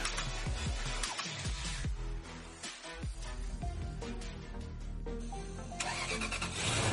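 A car engine that has just been overhauled turns over and catches, with a rattling crank followed by rough revving and a steady running roar close by.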